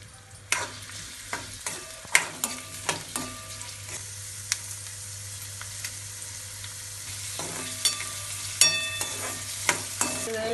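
A large onion frying in hot oil in a pan, a constant sizzle punctuated by repeated sharp metallic spatula scrapes and taps in bursts, close and clear with no talk.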